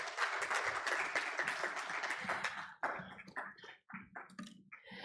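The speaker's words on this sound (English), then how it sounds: "A round of applause, please, for our panelists." An audience claps for the panelists at the close of a gender and GBV assessment launch event in Tanzania, a dense burst of applause that thins into scattered claps after about three seconds.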